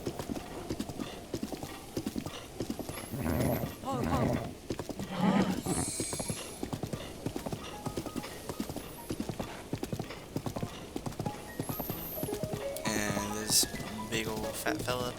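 Horse in Zelda Breath of the Wild, hooves clip-clopping in a steady trot with a neigh partway through and snorting breaths, while someone talks over much of it.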